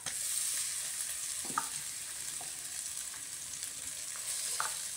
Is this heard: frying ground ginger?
yes